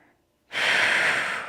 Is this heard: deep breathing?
yes